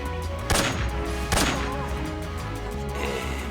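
Two sharp, loud sniper rifle shots from Metal Gear Solid 3, about a second apart, crack over a steady game music and ambience bed.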